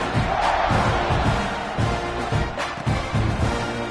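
A stadium crowd roars in the college football video game NCAA 26, a steady, distant wash of cheering that swells and dips in waves.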